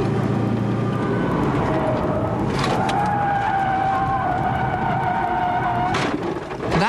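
A car skids during a driving test at speed with no Prodrive ATD fitted, its tires squealing in long, loud, wavering tones over steady engine and road roar, with a sharper screech near the end.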